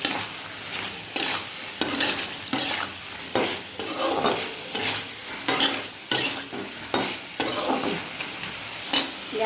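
Kohlrabi dalna curry with a pinch of garam masala being stirred and fried in a pan, with a spoon scraping in a steady rhythm of regular strokes over a continuous close sizzle.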